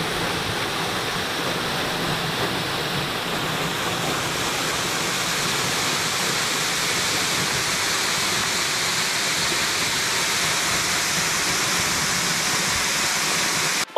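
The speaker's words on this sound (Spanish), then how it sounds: "Bienvenidos a la cascada Velo de Novia." Velo de Novia waterfall in Temalac, Guerrero pours continuously, a dense, steady rushing roar of falling water that holds even and close throughout with no voices.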